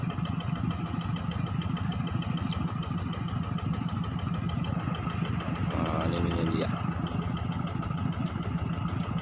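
A Honda ADP motorcycle at a gold-mining site idles with a steady, rapid engine putter throughout, while someone talks over it.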